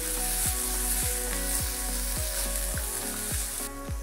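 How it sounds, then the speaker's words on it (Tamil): Chopped onions fry in hot oil in a pan for Chettinad brinjal kosumalli, sizzling steadily and loudly with a regular scraping stir about every half second. No one speaks. "வெங்காயம் நல்லா வதங்கட்டும்."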